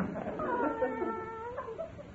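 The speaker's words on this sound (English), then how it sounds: "Stop drinking those pine needles, Minerva. Come on over here. That's a good kitty" A cat sound effect from an old-time radio comedy: a drawn-out, wavering meow that rises and falls for about two seconds, close and clear, with no talk over it.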